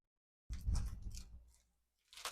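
A knife cuts through a block of melt-and-pour honey soap with a close, dull scraping and crunching pass lasting about a second, followed by a brief second scrape.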